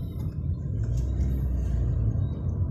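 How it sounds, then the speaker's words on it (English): Car driving at 30 km per hour during road testing of an NXS-3 speed limiter, a steady low engine and road rumble heard close from inside the vehicle, with no talk. "now we drive the car at 30 km per hour"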